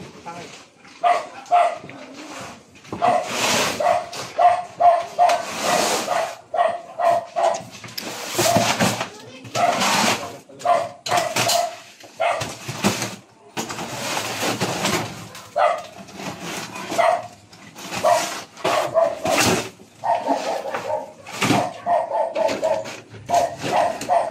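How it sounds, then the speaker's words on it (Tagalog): A dog barks repeatedly in short bursts, fairly near, while people talk over it and birds coo in the background. "May aso dyan."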